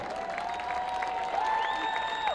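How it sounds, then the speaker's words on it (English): A crowd at a New York City Tax Day Tea Party rally claps in a continuous wash of applause, with a sustained tonal hum running over it throughout. "How about a big round of applause?"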